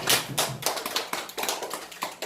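A small audience claps at a seminar on overcoming public-speaking anxiety, giving a short burst of scattered, uneven hand claps that fades within a couple of seconds.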